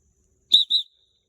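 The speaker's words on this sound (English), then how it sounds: "I got to get better with the whistle" Two sharp, shrill whistle blasts from a dog training whistle at a duck hunting spot with decoys, a short double toot, close and clear against silence.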